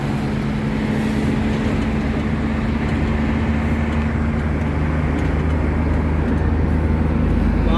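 Car on the road heard from inside a moving vehicle: continuous loud engine and tyre rumble with broadband road roar and a steady low drone, unbroken throughout, with a faint hint of voices.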